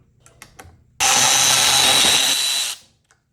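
Power tool on a transmission mechatronics plate, driving out its screws in one continuous loud whir lasting under two seconds, preceded by faint clicks and handling.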